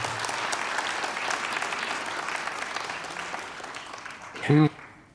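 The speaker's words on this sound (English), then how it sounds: "Round of applause." A studio audience applauds steadily through a round of applause during an investing talk, the clapping fading toward the end before a short loud bump.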